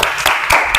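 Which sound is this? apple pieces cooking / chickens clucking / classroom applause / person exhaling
classroom applause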